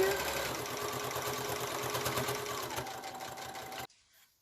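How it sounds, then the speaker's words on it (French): A sewing machine stitches steadily over a seam while a garment collar is sewn, its fast even motor chatter continuing close up for nearly four seconds before stopping abruptly into quiet. "Je vais repasser sur ma première couture."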